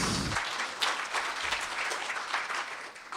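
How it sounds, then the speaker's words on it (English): A conference audience applauding steadily, a dense wash of many hands clapping at once, fairly close and sustained throughout. "May we give him a round of applause, please?"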